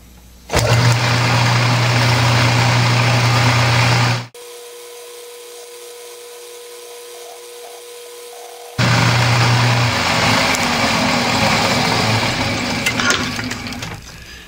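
A metal lathe drilling runs loudly and steadily with a harsh, buzzing tool noise, stops abruptly, then resumes, the cutting rattling and chattering throughout.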